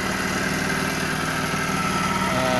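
An engine fitted with an HHO generator runs steadily at a close, loud idle, its continuous low rumble and mechanical vibration holding even throughout without any clear rev.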